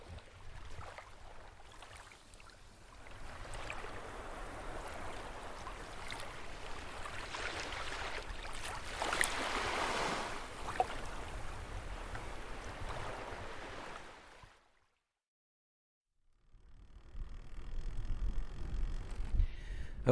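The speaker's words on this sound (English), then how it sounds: "the soporific sounds of the beach and the waves lapping against the shore" Waves lap against the shore of a Hebridean beach with a soft, continuous wash of surf and some wind. The sound cuts out for a couple of seconds near the end, then returns.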